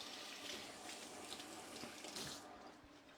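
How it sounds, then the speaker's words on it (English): Hands being washed under a running kitchen tap, a steady rush of water splashing into the sink for a few seconds and tapering off near the end, with no talk. "I'm going to wash my hand"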